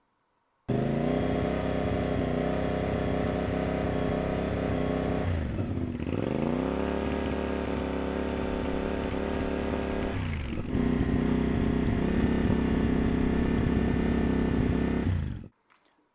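A CFMOTO 450MT motorcycle holds a steady 4000 RPM through three exhausts in turn, stock, budget and premium, a loud continuous droning rumble close by, with short revving breaks between each exhaust.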